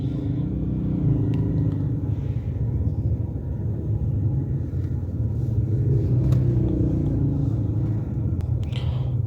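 A 2005 Honda City with a Japanese automatic gearbox and a misfiring fault, its engine idling in a steady low rumble that swells slightly midway, close and continuous with no talk.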